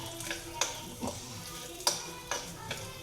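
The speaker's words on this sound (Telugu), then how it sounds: "ఇలా వేయించేసుకొని పెట్టుకోవాలి" Food frying and being stirred in a pan while cooking, with a steady close sizzle broken by regular scraping clicks of the spoon against the pan, no talk.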